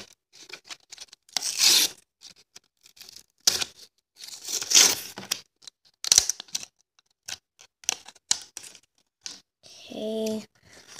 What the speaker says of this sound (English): Now I'm just gonna take the scissors out the packaging.